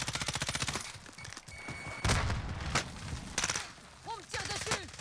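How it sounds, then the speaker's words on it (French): Automatic weapon fire in Call of Duty Warzone, with an M13 rifle in play: rapid bursts rattle out in quick rhythmic volleys, then heavier close shots and booms hit between pauses, while game effects sound in the background. "On me tire dessus."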